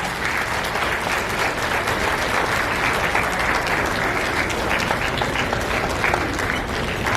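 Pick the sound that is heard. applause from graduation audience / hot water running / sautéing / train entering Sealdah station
applause from graduation audience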